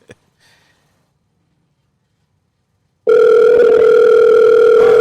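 After about three seconds of near silence, a loud electronic phone ringing tone starts abruptly and holds steady and close to the end.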